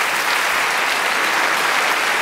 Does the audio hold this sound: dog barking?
no